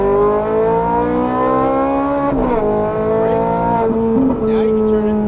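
Ferrari 430 Scuderia on track, its engine revving loud and close with rising pitch under acceleration, easing and climbing again through shifts, with a voice speaking over it.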